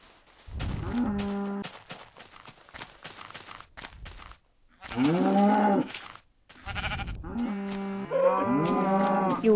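Repeated cartoonish cow moos from the video game Lucky Cow, loud and close, coming in several separate bursts alongside occasional other farm-animal calls.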